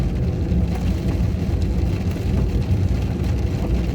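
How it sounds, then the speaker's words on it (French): A car drives through a heavy downpour, its deep engine and road rumble blending with dense rain hiss into a loud, unbroken wash of noise, and no one speaks. "le bruit de la voiture et le bruit des trompes d'eau"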